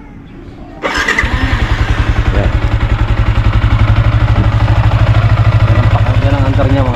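A motorcycle fitted with an Uma Racing air filter, about three years old, starts with a sharp burst and then settles into a steady, loud, throbbing idle close by, with a brief spoken word at the start.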